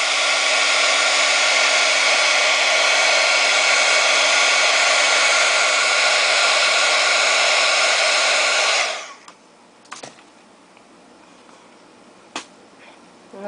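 A hair dryer blows steadily and loudly close by for about nine seconds, drying craft paint, then switches off, leaving faint handling clicks.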